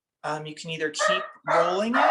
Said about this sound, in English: That was my dog barking.